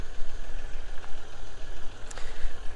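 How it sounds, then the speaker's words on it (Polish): Diesel engine of a vehicle at an auction, idling steadily with a low, even rumble and faint ticks, no talk over it. "przyjemnie słychać tego dieselka."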